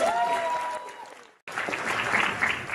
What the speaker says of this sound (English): Please, give a really warm round of applause